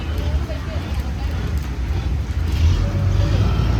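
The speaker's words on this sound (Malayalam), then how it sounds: "ബോട്ട് പതുക്കെ ഇവിടെ വന്ന് അടുപ്പിച്ചുകൊണ്ടിരിക്കുകയാണ്" Kumarakom–Muhamma ferry boat nearing and docking, a low steady engine rumble with wind noise, growing slightly louder toward the end.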